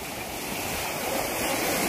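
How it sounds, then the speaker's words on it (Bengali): Arabian Sea waves surge and wash onto the shore in a continuous rushing roar of surf, moderately loud and steady, with no voices. "জলে জল কেমন ঢেউ মারছে।"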